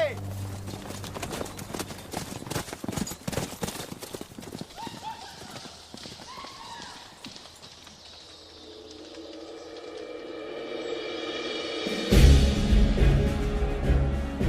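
Horse hooves clip-clopping at a gallop in a medieval historical drama, rhythmic thuds under narration and music, with a whinny and a swelling score near the end.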